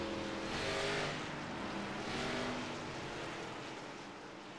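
A pace car laps Irwindale in the iRacing sim: a steady engine drone that swells twice as it passes, then fades slightly, with no other sounds on top.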